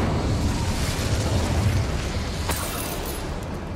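In Hogwarts Legacy, a cast Incendio fire spell makes a dense, roaring burst of flame that stays loud and rumbling throughout, with a sharper crackle partway through and no speech over it.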